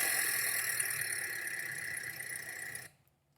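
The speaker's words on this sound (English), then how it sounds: "Kind of got a little exhaust leak." A car engine with an exhaust leak runs steadily with a hissing, raspy exhaust note, then cuts off abruptly into silence.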